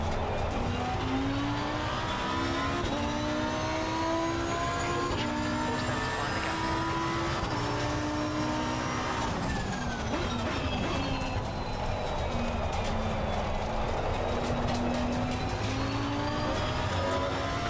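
A Lamborghini Huracan GT3 Evo 2 racing in a video game league screams through rising and falling revs, with gear changes and a sharp lift around the middle, loud and continuous from the cockpit view.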